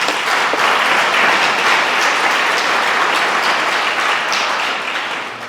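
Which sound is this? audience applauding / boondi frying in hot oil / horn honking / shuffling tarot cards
audience applauding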